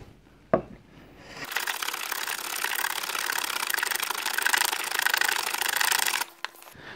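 Hand plane shaving wood from a guitar neck heel held in a vise, one long continuous rasping stroke after a sharp knock, close and fairly loud with no talking.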